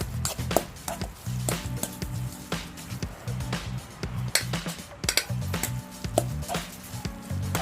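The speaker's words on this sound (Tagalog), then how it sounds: "Tapos, haluin ulit natin siya." Pancit canton being stirred in a pan, with repeated scraping and clinking of a utensil against the metal over a low sizzle, close and fairly steady throughout.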